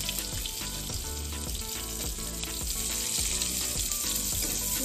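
Chopped onions frying in plenty of oil in a pan, a loud, steady, close sizzle that hisses on without a break for the whole stretch, with no voices.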